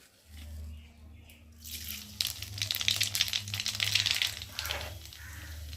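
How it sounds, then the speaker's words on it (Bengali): Black cumin seeds hitting hot oil in a kadai, a bright crackling sizzle that rises sharply partway through and stays busy over a low steady hum. "ওই তেলের মধ্যে এখন আমি দিয়ে দেবো"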